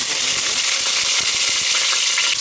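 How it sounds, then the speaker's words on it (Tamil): Curry leaves hit hot oil for a spicy mutton curry, setting off a loud, steady, close crackling sizzle with scattered sharp pops throughout. "இப்போ நான் வந்து கருவேப்பிலை போட போகிறேன்"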